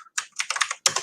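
Keys on a computer keyboard are typed in a quick burst of about eight close, crisp clicks with brief pauses between them and no voices.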